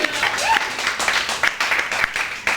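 A small audience at a live improv comedy show claps in a short burst of scattered, uneven applause, with some voices mixed in.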